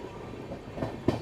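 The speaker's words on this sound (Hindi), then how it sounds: "काफ़ी देर से अपनी ट्रेन ऐसे ही स्लो रफ्तार में चल रही है" Bengaluru Rajdhani Express running slowly on the tracks, a quiet low rumble with a couple of soft wheel clunks near the end.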